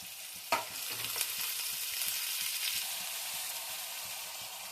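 Curry leaves tossed into hot oil for a bitter gourd and tomato curry set off a sharp initial burst, then a steady close hiss of frying with faint stirring knocks underneath.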